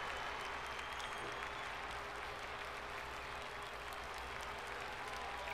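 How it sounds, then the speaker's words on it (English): Steady, even applause from a video game arena crowd in Suikoden V, a continuous dense wash of clapping with no breaks, heard alone at a moderate level. "We're clapping away"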